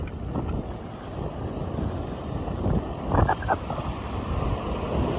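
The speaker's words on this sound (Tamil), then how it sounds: "இந்த கடல் அலையினை சத்தத்தை பாருங்க எப்படி இருக்குன்னு சொல்லி" Sea waves washing onto a shore in a steady, continuous rush mixed with wind noise against the microphone, with a brief louder splash midway; no one speaks.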